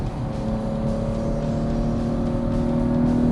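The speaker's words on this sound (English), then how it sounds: "why am I driving a car like a CTS, a Cadillac, on a road course?" A 2014 Cadillac CTS-V Sport engine holds a steady, loud drone at high revs on a road course, as if cruising fast, with a faint whir and no voices.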